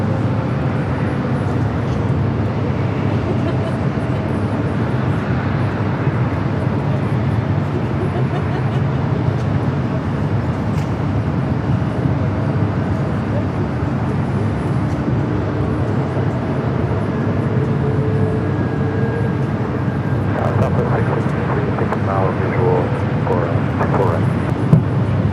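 A jet airliner takes off from runway 24 Left at Los Angeles International Airport, its engines a loud, steady roar that holds throughout. Radio voices speak over it at times.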